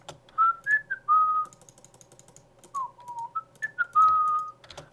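Melodic human whistling on a Minecraft server, several rising and falling tones in two phrases across five seconds, fairly loud and close with no talk over it.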